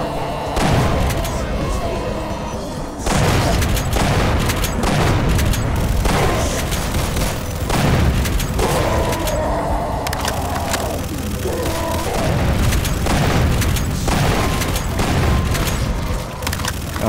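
Gunfire and explosive booms from enemy gunners in Doom 2 with the Project Brutality mod, dense and continuous across the stretch with repeated heavy blasts and clattering shots, fairly loud and close.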